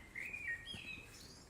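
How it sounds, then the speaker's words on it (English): Birds chirp and whistle in brief high notes during a woodland walk, faint and slightly distant over soft outdoor ambience. "those birds singing is as we walk along"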